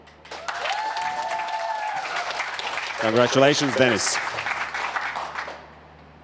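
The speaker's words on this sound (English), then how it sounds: "make sure that he can hear the round of applause you're giving to him" A graduation audience gives a sustained round of applause, dense clapping steady throughout, while a speaker talks over it.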